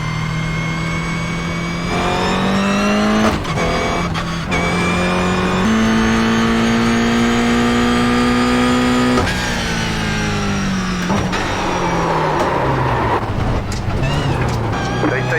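A race car engine in a sim racing game, lapping Lime Rock with paddle shifts, drones loud and close, its pitch climbing through gears with sharp shift breaks, while someone talks over it.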